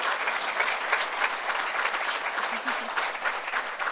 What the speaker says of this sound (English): Another round of applause, please, for Katie.